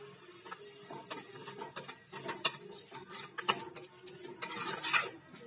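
Tomatoes with rock salt are sautéed in a pan, a spatula clinking and scraping in a quick, uneven rhythm over a soft background hiss, growing busier toward the end.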